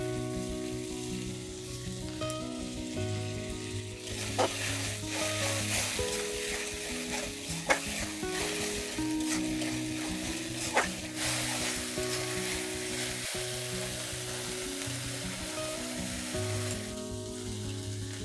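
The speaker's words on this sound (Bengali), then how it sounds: "এবার মশলাটা আমি ভালো করে কষিয়ে নেব।" Spice paste for a Bengali crab curry sizzles in a pan as it is sautéed, a steady frying hiss with intermittent scrapes and knocks of a spatula stirring against the pan, with faint background music.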